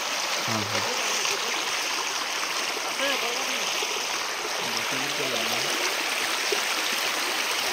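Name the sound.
small stream of flowing water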